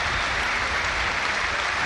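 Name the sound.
football crowd applauding substituted Everton player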